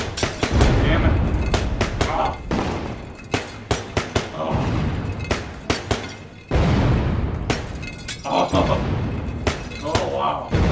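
Pistol shots in Nvidia VR Funhouse, a carnival-style VR shooting gallery: sharp, loud single cracks fired in irregular bursts, some quick pairs and runs, over a busy game soundscape with a player talking throughout.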